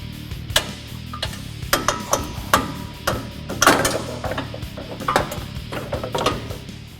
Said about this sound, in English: we're going to hammer out these studs so we have enough room